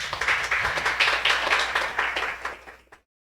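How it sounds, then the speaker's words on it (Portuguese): A church congregation breaks into dense, lively applause that holds for a few seconds, then fades quickly and stops, with no voices over it. "Vamos aplaudir Jesus?"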